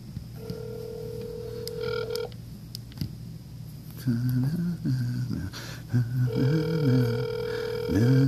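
Telephone tones sound in several separate bursts of steady electronic tones, as a radio contest line is called and rings through to a voicemail greeting, with a few short gaps between them.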